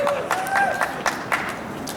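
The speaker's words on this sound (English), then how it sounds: "Give her applause." Audience applause breaks out in scattered claps and light cheering at a street campaign event, short and moderately loud, with a thin whistle-like tone over it early on.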